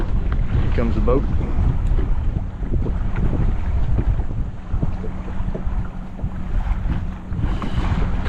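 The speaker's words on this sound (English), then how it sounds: "Here comes the boat." A boat comes closer across open water during a fishing trip, its low engine drone and wave wash steady under strong wind buffeting on the microphone, with no talking.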